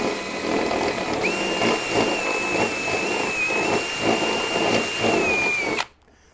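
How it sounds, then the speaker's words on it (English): A boring tool reams out a hole in a part for an HPI Racing Venture build, a close, steady power-tool whir with a thin sustained whine that runs for several seconds and then cuts off abruptly. "I'm going to use the boring tool"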